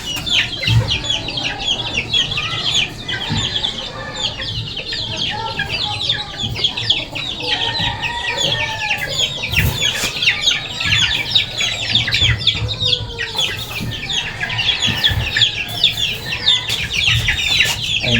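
Young chicks about one and a half months old chirping and clucking continuously, a busy flock of overlapping peeps and calls close by, with occasional thumps and no talk.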